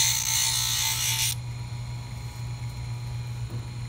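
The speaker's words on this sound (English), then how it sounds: "I'm being a little more careful now and picky in terms of what I'm trying to grind." An acrylic denture partial being ground and trimmed with a rotary tool: a high whining grind for just over a second, then the motor keeps humming steadily without contact.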